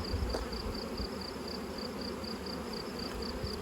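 Honey bees buzz in a steady, dense drone during a beehive inspection while splits are being made, the hum continuous and close with no talking.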